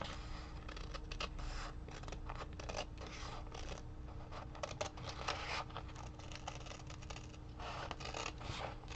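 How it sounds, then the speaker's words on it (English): Scissors cutting paper along the edge of a journal page, a quiet, steady run of fine snipping and scratchy rustling strokes that carries on for several seconds with no speech. "we're going to cut right along the edge"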